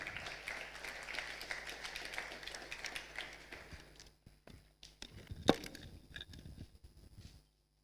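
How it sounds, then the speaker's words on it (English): An audience at a funding launch event in Tanzania applauding, a faint patter of scattered claps that thins out and fades, with one sharp knock partway through. "A hand of applause to Mr. Muyeye Chambwera."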